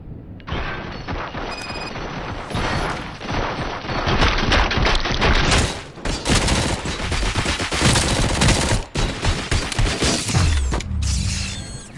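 A loud, sustained volley of gunfire from many weapons in a RoboCop film scene, with dense overlapping shots and bursts lasting about eleven seconds before dropping away to a low rumble.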